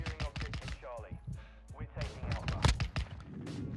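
Intervention sniper rifle shots ring out in Modern Warfare 2 gameplay, with sharp cracks and booming reports mixed into busy game sound and a player's voice talking over the action.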